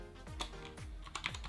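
Typing on a Rampage B-Atom mini Bluetooth keyboard, several quick soft key clicks in an uneven rhythm, close and quiet with no talking.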